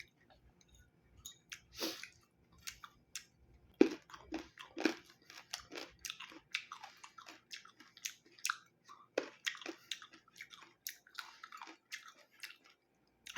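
Crisp, crunchy chewing of unripe green mango, with repeated close bites and mastication at an irregular pace, quiet between bites and no talking.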